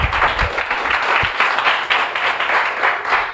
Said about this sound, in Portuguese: dar uma salva de palmas para Jesus